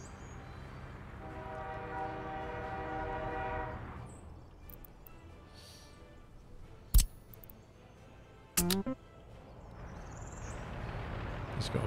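A train horn sounds in Workers & Resources: Soviet Republic as a sustained tonal blare over rumbling rail traffic, then fades, followed by two sharp clicks amid low ambient game sound.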